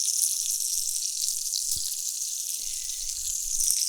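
A steak searing in an uncoated stainless steel pan gives a bright, continuous sizzle up close, with a few soft low knocks partway through.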